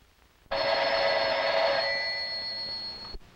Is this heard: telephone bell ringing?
yes